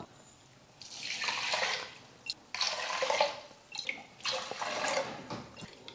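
Water poured into rice and lentils in a pressure cooker for pongal, heard as several bursts of splashing, trickling liquid with short pauses between pours, close and fairly loud, no talking.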